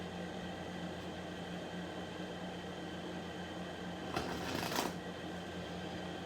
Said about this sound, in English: the dealer shuffles the deck